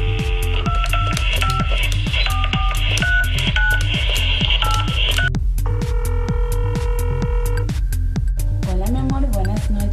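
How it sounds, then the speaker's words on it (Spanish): Telephone keypad tones sound over a speakerphone in a rapid series of short, evenly spaced beeps that change pitch from key to key, with a steady hum underneath and no talking. "voy a tener que hacer una pequeña llamadita"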